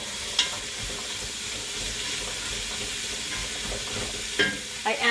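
Celery, onion and carrots cook in a stew pot with a steady, close sizzling hiss. A few sharp clicks and stirring knocks break through near the start and the end.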